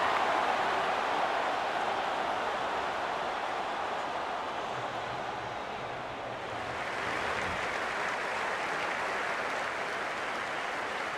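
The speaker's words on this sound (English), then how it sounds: "The crowd goes up with a kickoff" A stadium crowd roars at a rugby league kickoff in Rugby League 26, a dense, continuous wash of cheering that swells and holds for several seconds, with no commentary over it.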